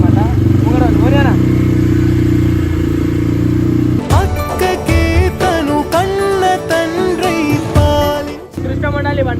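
A new motorcycle's engine runs steadily, then revs and pulls away loudly with clattering bursts as the bike rides off, while people talk over it throughout.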